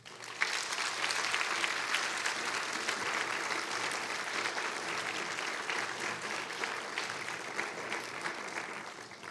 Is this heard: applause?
yes